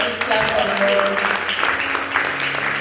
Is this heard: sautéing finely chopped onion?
no